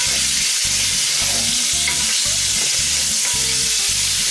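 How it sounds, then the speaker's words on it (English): Meat sizzling and frying in a hot cast iron pot, a loud continuous crackle with rhythmic low scraping or stirring strokes about every half second, close up and without voices. "I'm just going to throw in the meat"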